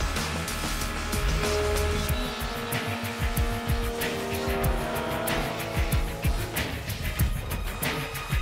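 Vehicle engine and tyre noise from a truck driven in the battle royale video game PUBG, a steady loud motor drone with squeals and rattling bursts running throughout.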